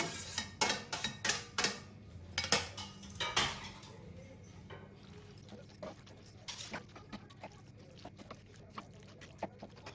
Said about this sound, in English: Now add the sauteed vegetables along with sweet corn and mix everything together.